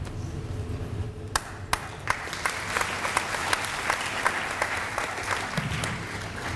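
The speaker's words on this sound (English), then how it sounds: "Half-hearted applause for the politicians" Sparse, half-hearted audience applause for a state representative at an elementary school D.A.R.E. graduation ceremony, scattered individual claps over a low murmur of voices, moderately distant.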